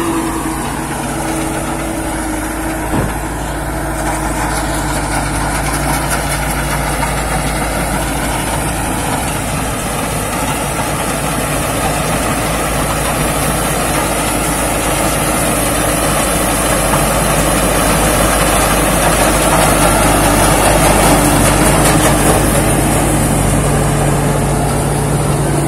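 A combine harvester's engine idles at a Thai rice harvest, a steady low rumble with a constant whine that holds loud and even throughout, with no talking.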